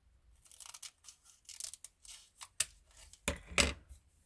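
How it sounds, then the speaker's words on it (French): Scissors snip through paper for a booklet in a string of quick, soft cuts, a few louder crisp snips near the end, close and quiet with no voices. "Je viens le découper là."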